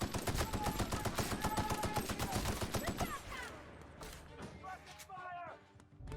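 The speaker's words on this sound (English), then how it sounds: "Suppressive fire!" Rapid automatic gunfire in the VR video game The Outer Worlds, a dense, loud stream of shots for about three seconds that then cuts off, leaving quieter scattered game sounds and a voice talking.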